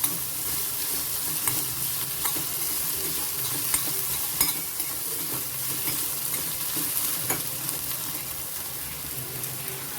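Cauliflower manchurian stir-fries in a hot pan with chili sauce, dark soy sauce and tomato ketchup, giving a steady, loud sizzle broken by regular scraping and stirring clicks.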